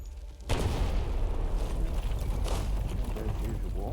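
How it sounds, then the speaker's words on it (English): Cannon bombardment from a siege in the strategy game Europa Universalis IV, heard as a dense, continuous rumble of booming artillery that starts abruptly and holds loud and steady throughout. "get ready to bombard once we have enough"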